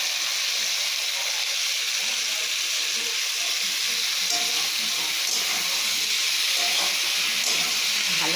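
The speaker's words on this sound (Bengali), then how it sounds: "আনাজটাকে কষে কষে করলে সুন্দর হয়ে যাবে" Vegetables sautéing in a hot pan, a continuous loud sizzle and hiss with faint stirring scrapes and soft clinks throughout.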